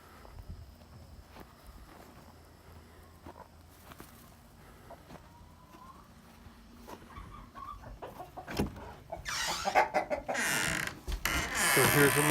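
Chickens cluck and scratch around a backyard coop, scattered calls over soft shuffling and footsteps, growing louder and busier toward the end as the birds stir up close.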